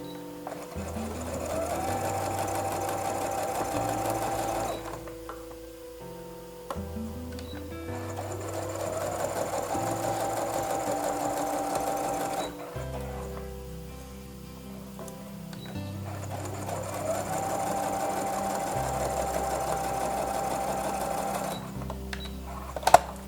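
A domestic sewing machine with a basic presser foot stitches fabric in three long runs, its motor whirring and needle clattering rapidly and close, separated by brief pauses and small handling sounds.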